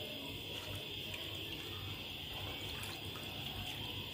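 Water poured into masoor dal frying in a pan, a continuous soft stream of liquid with faint sizzle, steady and low in level without talk.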